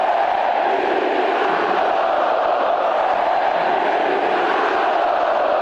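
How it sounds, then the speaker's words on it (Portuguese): Flamengo supporters in a packed stadium chant together to taunt their rivals, a loud, steady roar of many voices with no pauses. "A torcida rubro-negra aproveitou para provocar"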